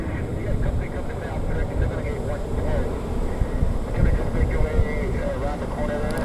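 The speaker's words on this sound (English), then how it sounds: "Got a Delta Airlines 737 heading out here on 17 right" Delta Airlines Boeing 737 jet departing Orlando International Airport on runway 17 right, a continuous distant engine roar carried on wind, with someone talking over it throughout.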